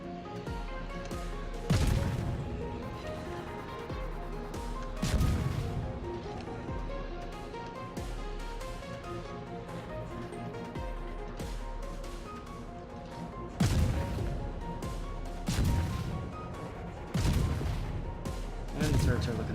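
Warship main battery shells firing in a naval video game, loud booming salvos recurring every few seconds over a steady musical backdrop, with a voice talking faintly.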